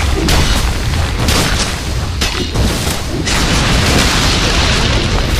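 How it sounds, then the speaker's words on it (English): A tower being destroyed during a Dota 2 G-League match: heavy, close, repeated explosive booms and crumbling bursts that fill the whole stretch with dense, loud noise. "Radiant's top tower has fallen."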